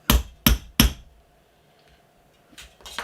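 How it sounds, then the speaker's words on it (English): Three sharp hammer taps strike a punch set against a metal sheet in quick succession, loud and close, followed by a quiet pause and a couple of lighter clinks at the end. "We'll take a hammer. Okay, give it a tap."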